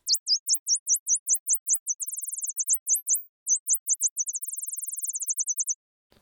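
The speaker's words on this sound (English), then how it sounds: "Today we're going to talk about an interesting sound, which is birdsong." Synthesized blackbird-style birdsong built from a modulated sine wave in a software synth, a clean run of rapid high chirps and swooping whistles in quick bursts and trills, alone against silence.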